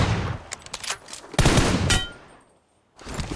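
Rapid automatic gunfire in the shooter game PUBG Mobile, loud close bursts of rattling shots with brief gaps and a short silence before another burst.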